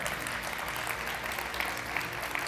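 Steady audience applause fills a hall at an award ceremony, dense and continuous for a couple of seconds with no voices over it.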